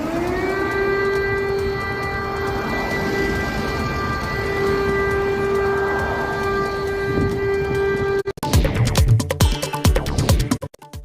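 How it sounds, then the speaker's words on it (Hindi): Emergency air-raid sirens wail in Ukraine after a Russian attack, a loud, sustained steady tone for about eight seconds, then cut off by abrupt, heavy thumping noise. "इमरजेंसी सायरन की आवाजें गूंजी।"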